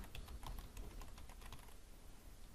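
Rapid, uneven keystrokes on a computer keyboard as a file is named during a V-Ray materials lecture, close and clear, with a steady hum underneath and no speech.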